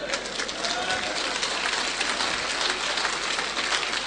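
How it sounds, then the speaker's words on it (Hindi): An audience at a Hindi-language seminar claps steadily for about four seconds, a dense, even patter of hands heard at moderate distance with no talking over it. "तालियां बजा रहे हैं"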